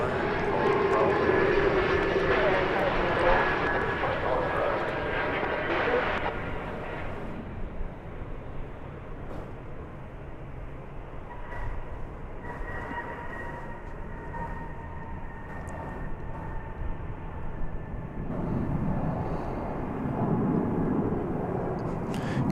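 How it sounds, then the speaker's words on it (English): An American Airlines Airbus A319 airliner at DFW Airport gives a steady, broad engine roar throughout, loudest at the start and again near the end, with faint talk beneath. "American Flight 2517 there on the left. That is an Airbus A319."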